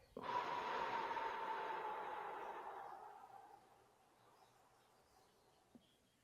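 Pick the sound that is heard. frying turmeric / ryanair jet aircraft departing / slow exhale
slow exhale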